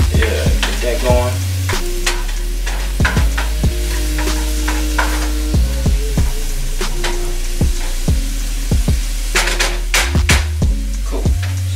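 Hearty meat sauce cooking in a pan, a steady loud sizzle punctuated by repeated clattering knocks and scrapes of a spoon stirring, alongside a low background hum.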